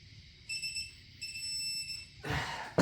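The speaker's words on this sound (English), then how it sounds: "That solid beep is all we needed." A solid electronic beep is heard during an NP231 transfer case slip-yoke eliminator install. Two sustained, steady tones sound faintly one after the other, followed by a brief rustle and a knock.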